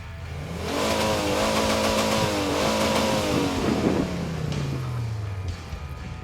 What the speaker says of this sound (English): riding on this awesome reckless turbo buggy. With the engine 350 HP power,